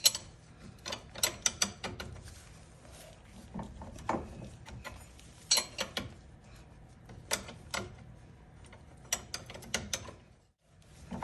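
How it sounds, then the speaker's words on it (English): A ratchet wrench turns the screw of a ball joint press to force out a car's ball joint, giving irregular, close clicks and sharp ratcheting ticks spread over several seconds, with faint mechanical creaks between them. "we are in fact using a wrench to get this ball joint out"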